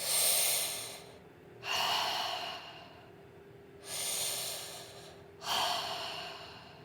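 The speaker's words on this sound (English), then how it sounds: "Holding here for just a few breaths." Deep, slow breathing during a yoga pose, close and fairly loud: four long airy breaths that rise, then trail off, with steady pauses between them. No speech.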